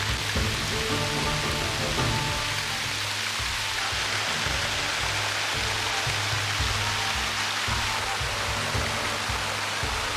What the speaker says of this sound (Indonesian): Dan hujannya pun turun sangat deras.